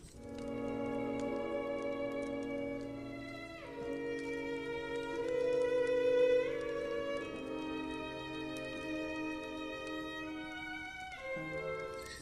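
Slow, lyrical orchestral music from the Adagio of Swan Lake, with sustained strings carrying a gentle melody, steady and moderately soft throughout.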